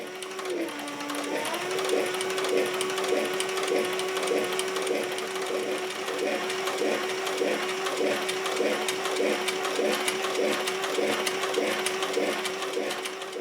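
Close and steady, a sewing machine stitches a leather magazine pouch with a fast, even mechanical clatter that runs unbroken throughout.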